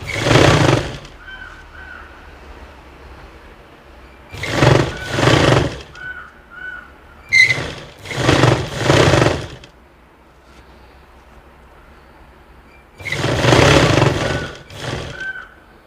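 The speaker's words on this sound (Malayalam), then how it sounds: "ഈ തയ്യൽ തുമ്പ് ഇതുപോലെ അകത്തോട്ട് പിടിച്ചതിന് ശേഷം നമ്മൾ ഇതുപോലെ ഒന്ന് സ്റ്റിച്ച് ചെയ്ത് കൊടുക്കണം" A sewing machine stitching a folded-in fabric edge runs in four loud bursts of rapid mechanical rattling, each lasting about a second or two, separated by quiet pauses, close up with no talking.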